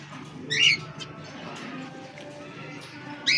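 Finches in a separate breeding cage give short, sharp squawking calls, with a bright burst early on and another at the end over a low, steady background hum.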